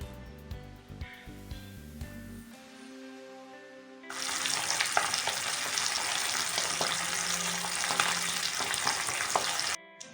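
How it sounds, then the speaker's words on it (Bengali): After several seconds of music, pabda fish coated in salt, turmeric and mustard oil starts frying in a pan with a sudden, steady, close sizzle and crackle that runs until the end. "এখন আমি এতে দিয়ে দিচ্ছি নুন হলুদ আর সর্ষের তেল মাখিয়ে রাখা পাবদা মাছ"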